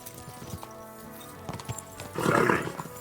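A horse in Kingdom Come: Deliverance II clops its hooves at a slow pace, then gives a short, moderately loud whinny near the end.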